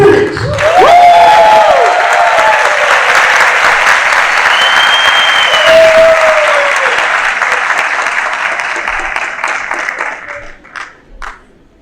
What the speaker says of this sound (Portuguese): receber com muita energia positiva e salva de palmas a idealizadora do evento Festival Cria Brasil